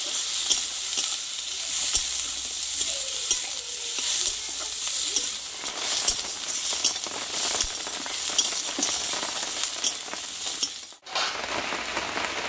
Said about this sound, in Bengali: এই পেঁয়াজের সঙ্গে একটু কষে নেবো, এটা আদার কাঁচা গন্ধটা চলে যায়।